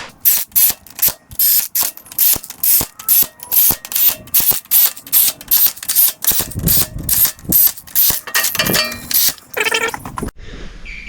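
A ratchet snugging down head bolts on a John Deere 3130 tractor engine, with rapid, loud, close clicking in quick bursts and short pauses, ending in a few heavier mechanical knocks.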